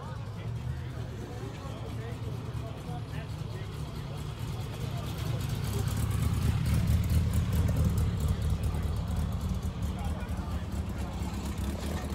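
A small car's engine hums as it drives past, the rumble swelling to a peak midway and then easing off, with steady traffic noise throughout.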